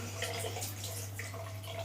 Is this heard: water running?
yes